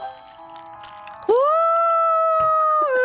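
A voice imitates a pigeon call with a sustained, wavering hoot that starts soft, then jumps louder and holds steady for nearly two seconds before dropping off at the end.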